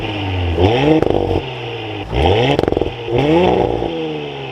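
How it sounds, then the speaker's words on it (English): A 2023 Audi S5 Sportback engine starting up and revving: three rising engine sweeps, each with a rattling clatter, loud and close, with no talk. "But let's fire this S5 up"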